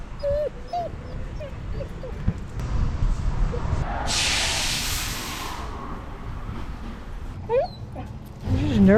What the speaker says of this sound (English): This is a nervous dog.